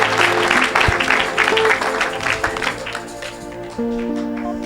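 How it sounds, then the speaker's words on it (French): A church congregation claps and cheers in praise during a deliverance service, dense applause filling the space, with a voice speaking over it and sustained organ or keyboard tones underneath. "Acclamez le Seigneur."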